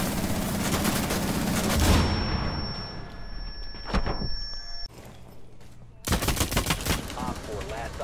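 Rapid gunfire bursts from a tactical shooter game, loud and dense at the start, then a tonal ring and scattered shots before another heavy burst of fire near the end, with faint voices in the mix.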